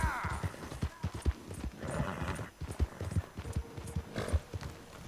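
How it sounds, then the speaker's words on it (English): Horse hooves clip-clopping at a slow walk in the video game Red Dead Redemption 2, a steady close rhythm of hoof beats with brief soft talk and game sounds between them. "El caballo va como muy lento"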